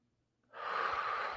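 After a brief silence, one long, deep breath drawn in audibly through the nose or mouth, close and steady, filling the rest of the clip.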